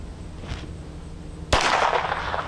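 A Phoenix Arms HP25 pistol fires a single sharp, loud gunshot at a shooting range, preceded by a soft handling click and followed by a short ringing decay over outdoor ambience.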